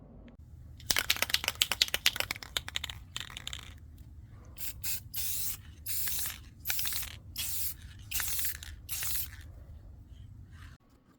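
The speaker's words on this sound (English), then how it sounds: "I'm going to put a little clear coat on there and we'll get this thing back together." Aerosol clear coat sprayed onto knife parts: a rapid rattle of the can's mixing ball, then several close bursts of hissing spray separated by short pauses, with no talking.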